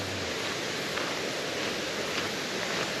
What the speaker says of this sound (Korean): 물소리 나서 인기가 많은 산인가 봐